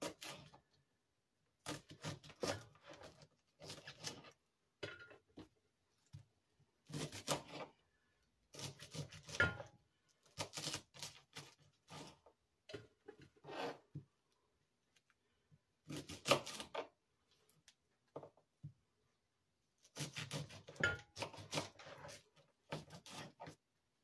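Fresh, already-washed Brussels sprouts are trimmed and halved with a knife on a board, giving repeated short bursts of close chopping thuds separated by quiet pauses.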